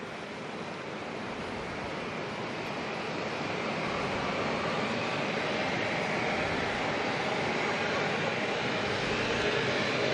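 An ATR turboprop airliner departs Auckland Airport in thick night fog, heard as a steady broadband engine roar that builds slightly in loudness and stays continuous throughout.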